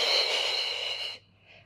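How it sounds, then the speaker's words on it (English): A single long, breathy exhale comes up close during a beginner Pilates mat workout, holding steady for about a second before cutting off, followed by a faint trailing breath. "Exhale, in breath."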